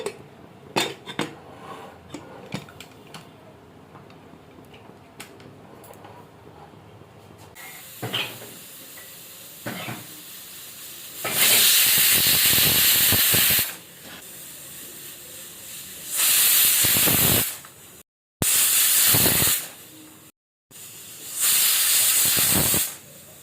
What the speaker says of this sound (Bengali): প্রেশার কুকারটা বন্ধ করে 4টে সিটি দিয়ে নিলেই